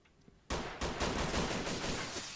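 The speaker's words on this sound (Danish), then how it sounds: "Ah, han skyder efter mig." Gunfire aimed at the player in the video game Island Life, a loud sudden burst of rapid shots with a second onset close behind, then sustained dense shooting throughout.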